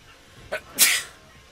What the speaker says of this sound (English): You sneezed all over my controller!